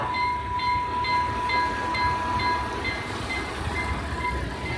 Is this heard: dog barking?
no